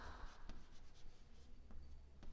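Pen or pencil scratching across paper as questions are written out during a live English class, faint strokes in short bursts against a quiet room with low hum.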